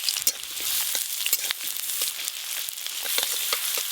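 Dried chillies and chopped onion fry in a pan of hot oil for greens, giving a steady dense sizzle with crackling pops throughout, close and alone with no talk.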